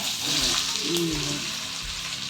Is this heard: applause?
no